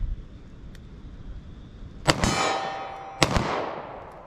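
A .40 S&W pistol, loaded with Federal Punch ammunition, is fired twice at a target 25 yards away. The two loud, sharp cracks come about a second apart and each rings out briefly, with no talk.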